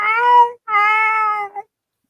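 A house cat yowls two loud, drawn-out meows close by, ending in a short chirp, then silence.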